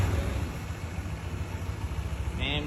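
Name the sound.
Honda Vario 160 ABS scooter engine idling after start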